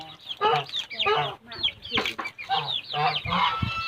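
Chickens cluck at a rambutan orchard in Pak Chong, Thailand, a busy run of short, repeated calls across the whole stretch, close and fairly loud, with voices mixed in.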